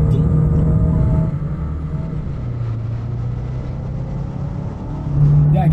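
Mercedes A200 1.3 TCe and Audi A3 35 TFSI pulling hard in a drag race, a loud steady engine drone with a shift-like dip near the first second and a swell again at the end, close by.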